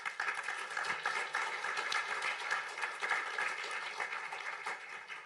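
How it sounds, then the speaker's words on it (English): An audience at a panel discussion claps in sustained applause, a dense patter of many hands at moderate volume that continues steadily. "Can we please have a round of applause for our panelists?"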